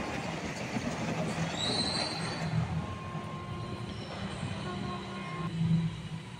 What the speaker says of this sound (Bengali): দ্রুত গতিতে যাচ্ছে ট্রেনটি।